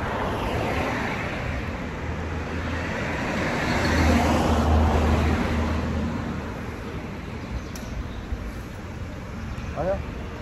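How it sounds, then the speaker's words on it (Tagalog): Steady road traffic rumble heard from inside a car stuck in evening traffic, a continuous broadband wash that swells slightly midway, with low engine drone beneath and brief voices here and there. "Traffic pa tayo."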